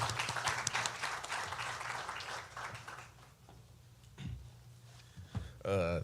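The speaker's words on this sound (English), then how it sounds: "Let's give him a round of applause." Applause from an audience at a careers talk greeting a student speaker, a broad clapping wash over the first few seconds that fades, followed by scattered thumps and a brief voice near the end.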